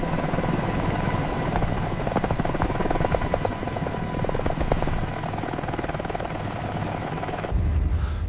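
An army helicopter approaches over a forest, its loud continuous rotor thrum and engine whine filling the scene steadily before cutting to a lower rumble near the end.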